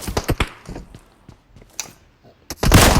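Gunfire in the PUBG video game on the Sanhok map, with a quick burst of loud shots, scattered quieter reports, then a louder sustained blast near the end.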